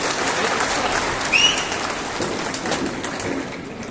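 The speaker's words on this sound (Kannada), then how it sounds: "ಚಪ್ಪಾಳೆ ಅವರಿಗೆ" Audience applause at a cable operators' day celebration gathering in Tumakuru, a steady dense clapping wash filling the hall throughout without any speech over it.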